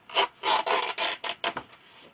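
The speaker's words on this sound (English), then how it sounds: "I'm just going to grip it between one of the little snips and tear." Denim fabric torn by hand into strips, a series of about six rough, raspy ripping bursts in quick succession, close and fairly loud with no talking.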